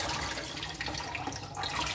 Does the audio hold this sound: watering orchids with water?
yes